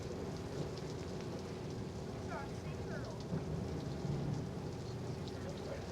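Steady rain falls on the deck of a research ship at sea, a continuous soft hiss with faint distant rumbles, fairly quiet throughout.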